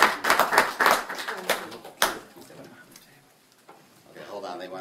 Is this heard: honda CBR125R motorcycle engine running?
no